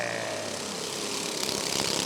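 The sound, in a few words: super cup race cars starting at Rockford Speedway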